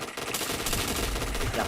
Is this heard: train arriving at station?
no